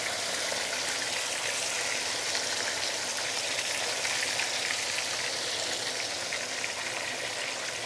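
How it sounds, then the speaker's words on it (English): Stuffed tofu, meat side down, frying in a pan of hot oil, giving a steady, close, even hiss and crackle of sizzling that holds without pause throughout. "We will just fry the tofu for about, I would say about plus minus 2 minutes"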